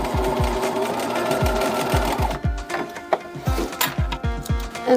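A sewing machine double-stitches two t-shirt sleeves together for a tank top, running in quick bursts of rhythmic mechanical thumps with brief pauses between runs, close and clear.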